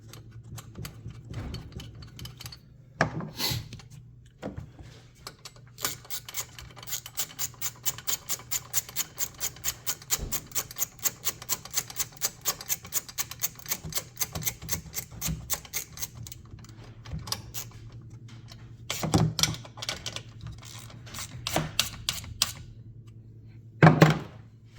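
A ratchet wrench tightens the hold-down bolt on a Tesla Model 3 12V battery mount, giving long runs of quick, even, close clicks with a few heavier knocks and pauses between bursts.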